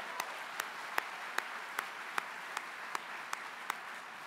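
Audience applause for counseling faculty and frontline staff at a college district convocation, an even wash of clapping from a large crowd with a few crisp individual claps popping out in a steady rhythm.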